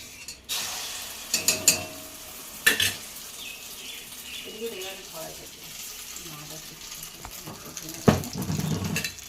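Egg being fried in a pan for a meal with leftover rice, with sizzling and stirring scrapes close by, sharp utensil clatters near the start, and faint kitchen bustle throughout.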